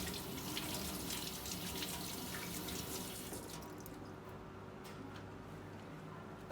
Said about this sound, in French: N'oubliez pas de vous nettoyer également jusqu'au poignet et ensuite vous pouvez rincer.